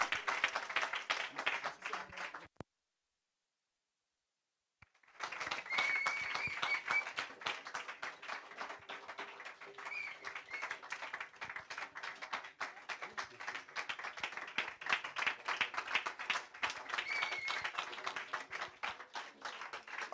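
A church congregation claps and cheers to acclaim Jesus, a dense, steady patter of many hands that breaks off into silence briefly before resuming at full strength.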